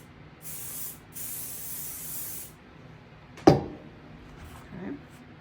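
Spray adhesive hisses from an aerosol can onto paper in two quick bursts, a short one and then a longer one, quiet and close, followed by a sharp knock and faint handling noises.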